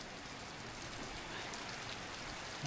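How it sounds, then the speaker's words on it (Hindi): Rain falls in the mountains of Boh Valley in Kangra, Himachal, as a faint, steady, even hiss with no voices. "बारिश स्टार्ट हो गई"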